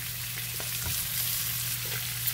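Peppers, Brussels sprouts and onions fry in a pan with a steady, close sizzle and a few soft stirring scrapes, with no talking.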